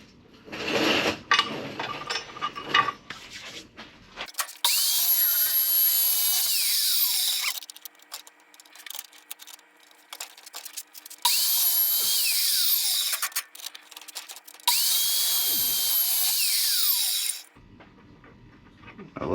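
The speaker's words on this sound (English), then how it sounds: "I love this saw because it doesn't leave a bunch of slag." A saw cuts steel exhaust header pipe for a Chevy square body, giving three long, loud, high-pitched whining bursts separated by quieter pauses and some lighter mechanical clatter at the start.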